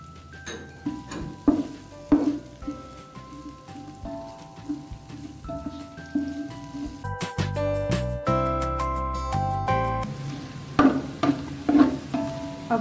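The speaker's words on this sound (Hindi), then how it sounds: "तीन दरमियानी प्याज डाल दें और इसे गोल्डन फ्राई होते तक पकाएं।" Three medium onions fried in a pan until golden give a steady sizzle with crackling bursts and stirring scrapes, growing busier midway, with no talking over it.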